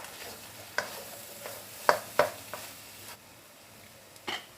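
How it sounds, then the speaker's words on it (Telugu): Egg bhurji with onions stirred in a frying pan, giving a low sizzle with a few distinct spatula scrapes and taps against the pan. "కూర అడగంటకుండా మంచిగా కలుపుకోవాలి."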